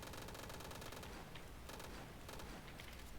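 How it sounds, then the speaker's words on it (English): Rapid-fire assault rifle shooting in a top-down shooter video game: a dense, continuous burst of gunfire at steady high volume that fills the whole stretch without pause. "this gun, it's kind of like the assault rifle, but it's going to just shoot way faster"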